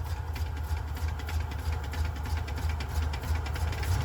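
An engine in a vehicle that sat unused for seven years, with a suspected cracked flywheel flex plate and a moving torque converter, runs under throttle. It gives a close, steady low rumble with a rhythmic pulsing knock throughout and no speech.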